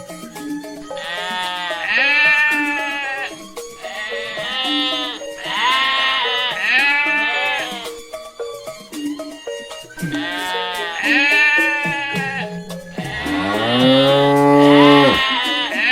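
Cartoon goats bleat repeatedly in loud, wavering calls, several in a row with short pauses between them and a longer, deeper bleat at the end, set in a holiday Eid al-Adha sacrifice story.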